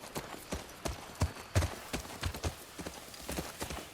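Horse hooves clip-clopping in the video game The Last of Us Part II, an even, moderately close walking rhythm of soft thuds with faint background ambience.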